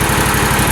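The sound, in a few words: Toro Z-Master 2000 zero-turn mower engine running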